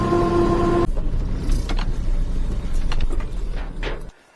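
A turbo micro van engine idles steadily after a tonal hum cuts off, a loud continuous rumble with faint mechanical clicks that stops abruptly near the end.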